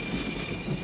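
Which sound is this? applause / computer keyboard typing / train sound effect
train sound effect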